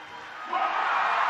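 A crowd at a climbing World Cup bouldering final in Innsbruck, a swelling roar of cheering that grows louder within a second and stays strong to the end.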